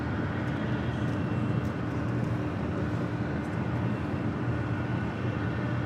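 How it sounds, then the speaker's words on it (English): A China Airlines cargo Boeing 777 freighter arriving at LAX: a steady, fairly distant broadband jet roar rumbles throughout without any clear build or fade. "See China Airlines cargo 777 freighter. Next arrival on 6 right."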